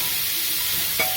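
Carrots and beans fry in a pan with tomato and ginger-garlic paste for a black kavuni rice biryani, giving a steady, loud sizzle while they are stirred, with one light clink near the end.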